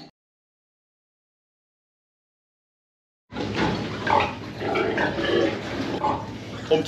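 Pigs grunt and squeal in a farrowing barn, a busy, moderately loud chorus that starts abruptly after about three seconds of silence and continues steadily.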